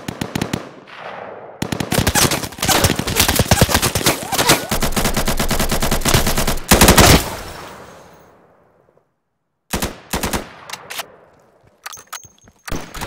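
Light machine gun fire in the video game Insurgency: long, loud sustained bursts of rapid automatic shots, a pause of near silence, then scattered shorter bursts and single cracks.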